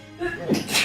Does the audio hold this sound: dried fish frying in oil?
no